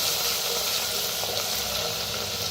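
Spice paste of cumin, asafoetida, crushed garlic and green chilli roasting in a clay pot for stuffed brinjal, a loud continuous sizzle with no voices.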